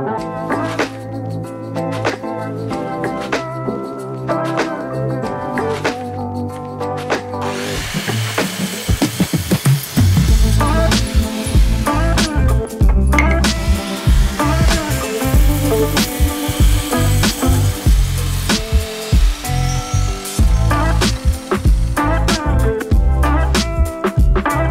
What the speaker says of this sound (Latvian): Mēs sākam ar koka brusas sazāģēšanu, izmantojot velkamās un šķērzāģa zāģi.